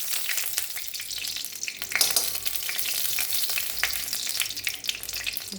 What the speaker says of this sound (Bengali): এটা একটু ঘি বা বাটার দিয়ে ভাজতে হবে